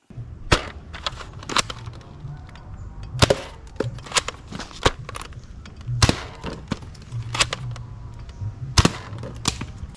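A Nerf Mega Dual Strike toy blaster fires repeatedly: sharp snapping pops come at irregular intervals over ten seconds, each a crisp click-thwack close by, with quieter handling clatter between them.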